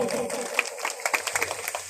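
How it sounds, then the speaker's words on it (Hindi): A crowd at an outdoor political gathering in rural Madhya Pradesh claps, a dense patter of hands that builds toward the end, mixed with someone speaking over a loudspeaker. "ताली बजाओ जोरदार वाली"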